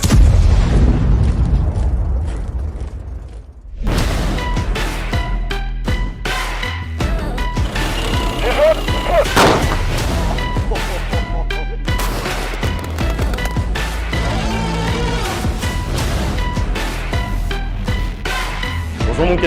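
Heavy booms and blasts from a Leclerc XLR main battle tank firing its gun on a military range, loud repeated reports with rumbling engine and clatter in between.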